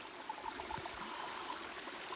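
Cold mountain stream on the Appalachian Trail, where feet are being dipped, flows in a faint, steady babble and trickle with a few small splashes, no voices over it.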